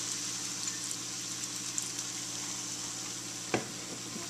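Corn and egg sautéing in a pan for fried rice, a faint steady sizzle running throughout with a single brief clink of a utensil near the end.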